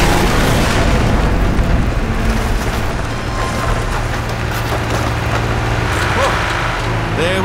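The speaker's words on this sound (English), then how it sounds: "The containerized destruction sequence provided some unique technical challenges." A room destruction sequence in the Portal 2 video game, with deep rumbling booms and crashing debris forming a loud, continuous roar from start to finish, with faint background voice.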